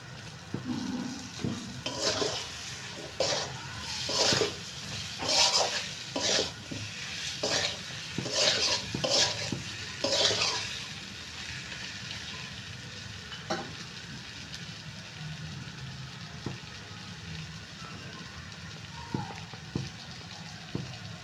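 Chopped tomatoes go into a frying mutton masala, giving a close sizzle with rhythmic stirring scrapes and clinks of a ladle against the pot, busy at first and then settling into a quieter simmering hiss.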